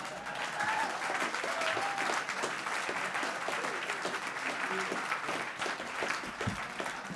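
A debate audience claps steadily and loudly for several seconds, a dense even patter of many hands with a few cheers mixed in.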